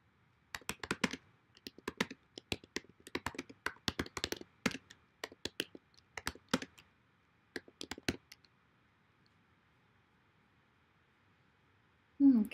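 Bursty typing on a computer keyboard, close and crisp, with uneven runs of keystrokes for about eight seconds, then a quiet pause and a louder knock at the end.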